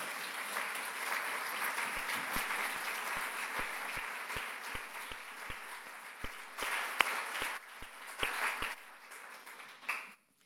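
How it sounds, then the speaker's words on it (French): Audience at a gathering applauding three former presidents of the CRE, France's energy regulator, after being invited to stand; sustained broad clapping fills the room for about ten seconds, with a few sharp louder claps standing out before it fades at the end. "prendre un moment pour leur rendre hommage à tous les 3 et pour les applaudir"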